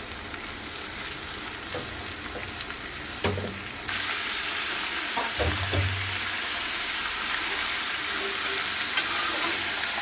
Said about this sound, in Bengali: পেঁয়াজ আর মাংসটা একসাথে ভেজে নেব সুন্দর করে।